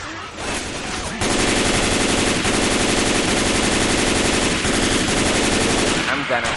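Sustained automatic gunfire from the Left 4 Dead 2 video game rattles loudly and continuously for several seconds after a brief lull, with a faint voice underneath.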